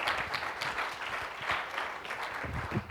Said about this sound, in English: Please join me in giving a warm round of applause for Dr. Hittinger.